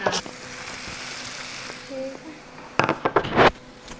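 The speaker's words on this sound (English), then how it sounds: "Just going to mix it lightly." A vegetarian stir fry mixed lightly in a hot pan, soft steady sizzling broken by a brief utensil ping, then a burst of loud scraping and clattering stirs near the end.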